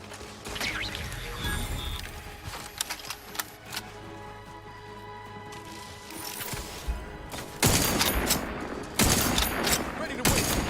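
Automated turrets in a sci-fi video game open fire, with dense bursts of rapid gunfire and mechanical clatter. The shooting builds and becomes loudest and most continuous toward the end.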